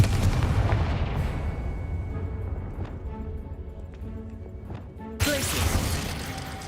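A Confringo blasting spell explodes in Hogwarts Legacy: a loud, rumbling burst opens, the roar fades into a quieter tail, and a second sharp blast erupts near the end.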